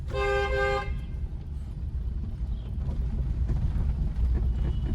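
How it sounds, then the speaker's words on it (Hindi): A car horn sounds in one sustained honk, then cuts off, leaving engine rumble and wind noise from a moving vehicle during a driving lesson. "अभी यहाँ पे लॉन्ग हॉर्न पुश करो"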